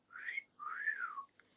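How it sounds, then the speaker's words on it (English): A person whistles two short, clear notes up close in a quiet room, the second longer and gently rising then falling, followed by a tiny faint click. "You're getting a whistle."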